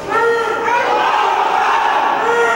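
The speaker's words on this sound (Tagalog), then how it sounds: "Umalingaw-ngaw ang sigawan sa loob ng Sharif Kabunsuan Cultural Center" A crowd inside the Sharif Kabunsuan Cultural Center auditorium in Cotabato City shouts and cheers as a plebiscite result is declared, a loud sustained roar of many voices.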